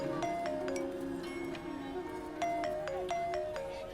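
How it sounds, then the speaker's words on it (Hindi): A phone rings with a repeating melodic tone in a Hindi film scene, the chimes coming in short bursts at moderate loudness over a busy background. "सोनल का फोन आ रहा है।"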